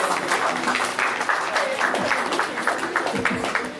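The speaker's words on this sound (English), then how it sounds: "A round of applause for her, please." An audience applauds a woman being honoured at a gathering, steady clapping from a crowd with scattered voices and shouts blended in under it.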